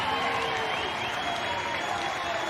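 A record crowd cheers and applauds at a Duke vs Missouri NCAA softball super regional game in Columbia, Missouri, a steady, dense roar of clapping and voices filling the stadium without letup.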